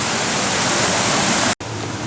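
A waterfall beside a large bridge at the Pittsburgh Zoo gives a loud, steady broadband rush, close by, broken only by a brief dropout near the end.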